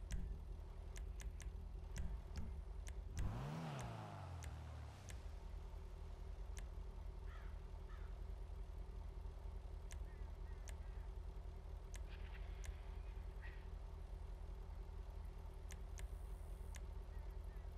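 Ocelot Ardent, an American muscle car in GTA Online, revs its engine with a loud sweeping rise and fall, then settles into a steady rumbling idle.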